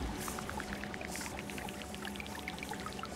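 Water cleanup effect in the Terra Nil video game: a steady, fairly quiet pouring, streaming wash with scattered bubbly droplet ticks throughout, continuous and alone.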